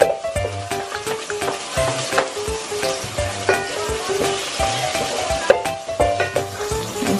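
Chopped onion sautéing in a pan for Filipino chicken tinola, a busy close sizzle with repeated scraping stirs and clinks of a utensil throughout.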